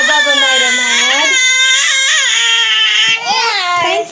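A baby girl screams and cries loudly and continuously for about four seconds, with rising and falling wails that fill the whole clip close to the listener.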